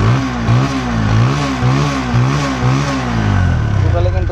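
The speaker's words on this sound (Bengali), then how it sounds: "দেখতেছেন দেখো বাইকটা এখন সাউন্ড" A used 2022 TVS Apache RTR 160 2V motorcycle with very low mileage revs repeatedly in a steady rhythm of rising and falling pulses, loud and close, then settles toward a rougher idle.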